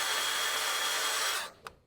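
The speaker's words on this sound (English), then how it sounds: "I went ahead and drilled some mounting holes in the lift top table" A drill runs with a steady whine as it bores a mounting hole through thick steel on a lift top table, then stops abruptly, followed by a brief clack, with no speech.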